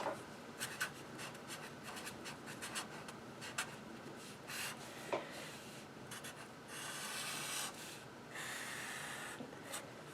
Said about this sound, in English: Alright, so I'm going to start by sketching.